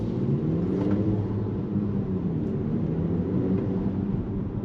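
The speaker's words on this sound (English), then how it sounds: "Even though this car has a very loud aftermarket exhaust, acoustically it's not coming in too much" Audi A7 Sportback quattro with a loud aftermarket exhaust, heard from inside the cabin while driving: a steady, muffled low engine and road drone, moderately quiet and continuous with no talk.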